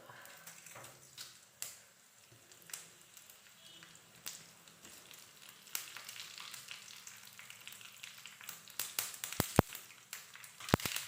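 Dried red chillies and mustard seeds fry in hot oil for a Malayalam pumpkin curry, a soft steady sizzle broken by sharp crackles and pops that grow busier toward the end.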